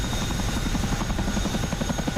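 A helicopter in the DCS flight simulator holds a pedal turn, its rotor thumping in a fast, even pulse over a constant engine drone, loud and close.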